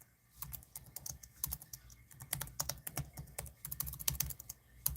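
Fingers clatter on a computer keyboard, a close, quick, irregular patter of key clicks that speeds up toward the end, with no talking.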